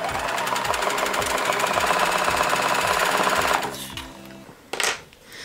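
Sewing machine stitching a jelly roll fabric rope bowl, a fast, loud, regular mechanical chatter that runs steadily for a few seconds, then stops, followed by brief handling noises.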